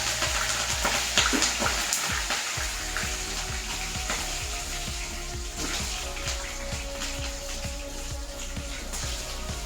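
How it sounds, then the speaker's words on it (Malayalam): Curry leaves frying in hot oil as a garnish for jackfruit-seed pakoda give off a continuous crackling sizzle, loud and close, with small popping bursts scattered through it and no talking. "കറിവേപ്പിൻ്റെ ഇല വറുത്തിട്ട് നമുക്കിതിൽ ഇടാനായിട്ട് വെക്കാം"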